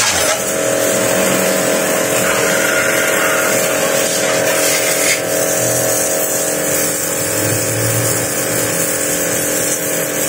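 A 120-watt portable double electric water pump runs with a loud, steady motorized whine and rush of spraying water, continuous and close up, with a constant buzzing drone throughout.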